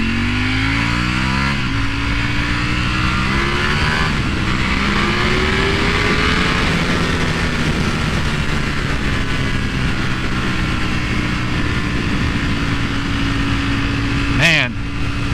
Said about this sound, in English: the cross plane of the R1 and the V4 engine sound is starting to grow on me